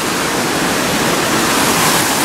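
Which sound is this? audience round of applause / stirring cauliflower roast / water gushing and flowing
water gushing and flowing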